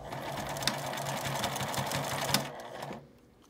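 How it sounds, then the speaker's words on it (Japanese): A sewing machine runs a steady rapid stitch down the middle of a fabric handle strap for a child's backpack, a close mechanical whir with a couple of sharp clicks before it stops near the end. "端から4センチずつは縫わないようにして真ん中にミシンをかけます。"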